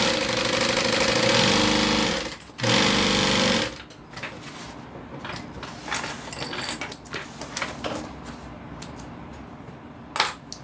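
A sewing machine runs fast and loud, stitching a vinyl bottom in place in a steady whirring burst with one short pause, then stops and gives way to scattered light clicks and clatter.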